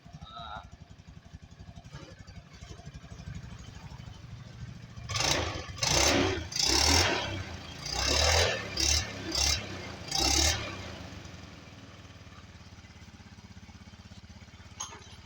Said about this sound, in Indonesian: Oke, ini untuk motor sudah hidup.